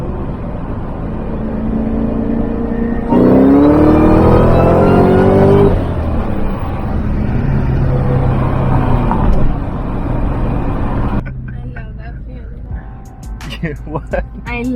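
A Mustang Terminator Cobra accelerates hard, its engine rising in pitch through the revs and then settling back, heard from inside the car with a person talking over it.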